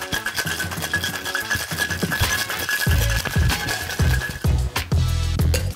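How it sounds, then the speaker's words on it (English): Ice rattles and churns inside a cocktail shaker holding spiced rum, lemon, demerara-cinnamon syrup and cloudy apple juice. The shaking is a dense, continuous scratchy clatter with heavy rhythmic thumps, heard up close. "Ice that up, give it a shake."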